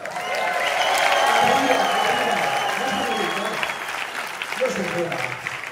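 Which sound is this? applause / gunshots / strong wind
applause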